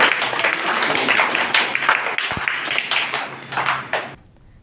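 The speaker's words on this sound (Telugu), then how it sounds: "వారందరికీ కూడా మనం చప్పట్ల ద్వారా." An audience at a community gathering of women devotees applauds, a dense patter of clapping hands that holds steady for about four seconds and then stops.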